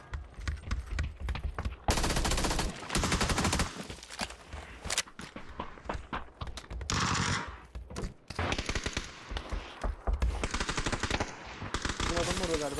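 PUBG gunfire on the Erangel map: dense rapid automatic bursts and single shots crackle loudly throughout, with short gaps between volleys and players talking over the shooting.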